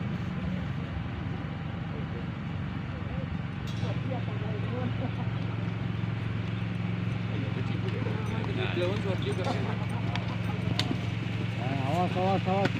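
Horse hooves clip-clop steadily during training for the traditional Gayo horse race in Takengon, Aceh, with a constant engine-like hum and people shouting and talking over the hoofbeats.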